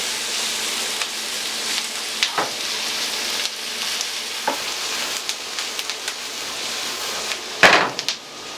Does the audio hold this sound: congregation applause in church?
no